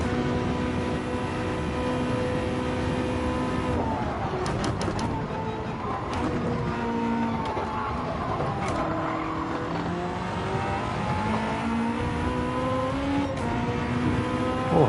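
Race car engine in Gran Turismo 7 drones continuously at high revs, with rising and falling pitch as it shifts and accelerates, plus a few sharp ticks over the steady roar.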